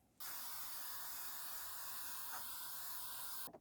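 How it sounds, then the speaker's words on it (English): Deoxit contact cleaner sprays steadily onto the key contacts of a Roland SH 2000 synthesizer being repaired: one continuous, close, loud hiss lasting about three seconds and then cutting off abruptly. "Let's now give all the contacts a spray down."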